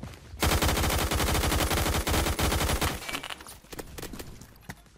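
Rapid automatic gunfire in the shooter game Phantom Forces: close, loud bursts of fast repeated shots for a few seconds, then trailing into sparser, quieter shots.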